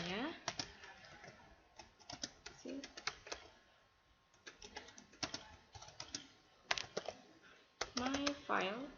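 Keys clatter on a computer keyboard as a Linux terminal command is typed, quick bursts of clicks with pauses, mixed with someone speaking throughout.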